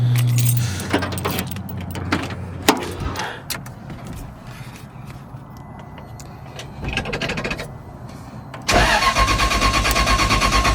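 Keys jangle and clatter near a drift truck for several seconds of rustling and handling, then the engine cranks and catches at the end, settling into a loud steady idle; nobody speaks.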